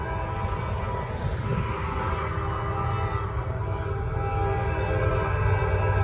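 A northbound Norfolk Southern freight train on the Charlotte District picks up speed, its horn blaring in long sustained blasts over a loud, steady rumble of rolling cars close by.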